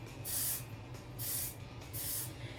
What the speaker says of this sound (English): So I spray it through the curls,